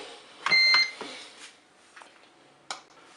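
A Cookeo multicooker gives a short series of electronic beeps as pressure cooking starts, with a clear tonal beep, a few faint clicks and a final brief chirp in a quiet kitchen.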